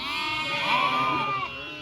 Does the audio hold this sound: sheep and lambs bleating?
yes